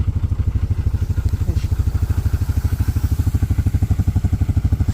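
A four-wheeler ATV engine runs nearby at a steady idle, a loud, low, rapid chugging pulse with light mechanical clatter and no break.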